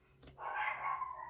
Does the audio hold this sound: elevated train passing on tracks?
no